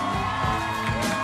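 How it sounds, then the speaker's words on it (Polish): A crowd at the Miss Ziemi Nowosądeckiej 2019 beauty pageant cheers and whoops for the contestants, a brief dense wash of voices and clapping in a hall. "chcę brawa dla tych dziewczyn"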